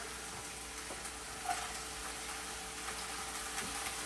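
Chopped onion, garlic and ginger fry in a pan for a chicken liver dish, giving a steady, soft, continuous sizzle with faint occasional ticks.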